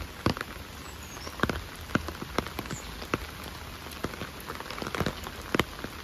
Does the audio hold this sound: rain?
yes